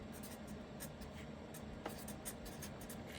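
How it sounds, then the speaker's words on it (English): Pen scratching on paper as notes are written, a steady close scraping texture with a couple of slightly sharper strokes, no voice over it. "So let's write that down."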